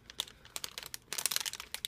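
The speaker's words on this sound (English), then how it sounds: "I'm going to use some scissors right now to open this" Scissors cut into the plastic packaging of a glow lantern toy, producing bursts of sharp crinkling and crunching of stiff plastic, close and busy, with a short lull midway and no voices.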